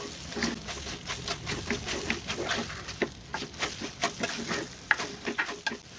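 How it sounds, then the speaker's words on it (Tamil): Mango pieces are tossed and stirred with oil in a pan while making mango pickle, giving soft irregular scraping and patter with a faint sizzle, growing into sharper clinks and stirring knocks toward the end, with no talking. "மாங்காயை எடுத்து அது கூட போட்டுக்குவோம். நல்லா ஒரு பரட்டி விட்டுக்குவோம்."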